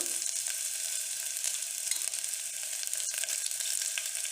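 Chopped ginger and garlic hiss and fry steadily in a hot pan for a chicken stew, a dense, even sizzle heard up close with no talking.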